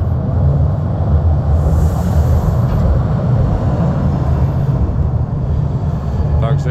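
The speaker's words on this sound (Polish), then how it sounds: "dopiero co skręciłem przed chwilą tramwaj jadący, a już następny tutaj zasuwa" A heavy tram rumbles past close by on an elevated tram viaduct in Kraków, a loud, steady low roar with metallic rail noise throughout.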